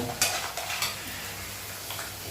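Peanuts roast at a street food stall, with a few sharp scrapes and clatters from stirring over a steady low sizzle and rustle, heard up close with no voices.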